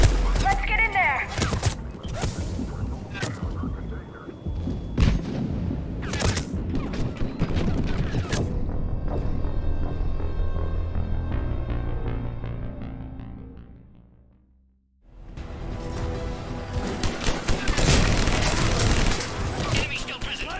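Bursts of gunfire and heavy booms at a checkpoint in Mass Effect 3, loud and dense. Explosive cracks overlap with game music, fade to near silence around the middle, then a fresh loud barrage. Battle chatter sits underneath.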